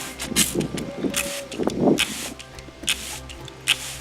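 Several short hissing bursts of a spray bottle misting water to clean foam flower beds during staining, spaced irregularly, close by, with faint handling noises between them.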